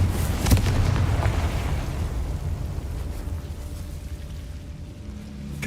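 A Confringo blasting spell in Hogwarts Legacy sets off a heavy explosive burst with a deep boom at the start, then a rumbling roar that slowly fades.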